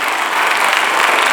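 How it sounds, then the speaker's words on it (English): Audience at a kids' summit panel session applauds loudly, a dense steady wash of clapping filling the short moment with no talk. "I think a huge, loud applause to all of them."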